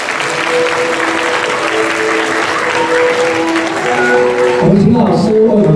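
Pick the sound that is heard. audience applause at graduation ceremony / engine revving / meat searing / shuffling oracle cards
audience applause at graduation ceremony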